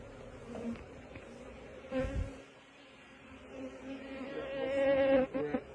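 Honey bees buzz around an open hive during a late-season inspection before winter, a continuous close droning hum that swells and fades as individual bees pass near, with occasional soft handling knocks.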